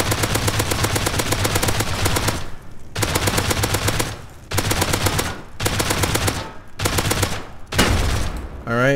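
Rapid automatic gunfire from an auto turret in the video game Rust, five or six loud sustained bursts separated by short gaps, close and dominant.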